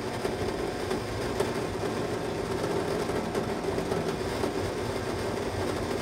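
A Vitamix Ascent Series blender kneading dough in an 8-ounce blending bowl gives a steady, loud motor drone with a rough, churning rattle that holds unbroken throughout.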